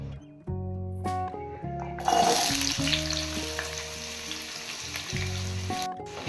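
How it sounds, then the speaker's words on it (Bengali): Mixed vegetables sizzle and crackle steadily in hot white oil in a wok, lightly frying with a stirring scrape partway through, while a steady tonal music bed plays underneath throughout. "সবজিগুলো সাত আট মিনিট ভালো করে ভেজে নেব"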